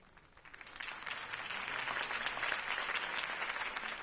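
Crowd applause at a political campaign rally in the video game Batman: The Telltale Series, a dense, steady wash of clapping that swells within the first second and holds strong to the end.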